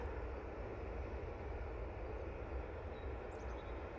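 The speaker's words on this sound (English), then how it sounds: "Got another EasyJet now departing" An EasyJet airliner departs with a steady, loud jet engine roar that holds constant throughout, broadband and unbroken, with no voices.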